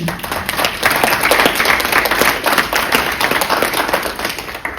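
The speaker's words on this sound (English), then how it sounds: "I think that needs a round of applause" A round of applause fills a hotel function room at an Essex Chamber of Commerce event, many hands clapping loudly and evenly for the whole stretch.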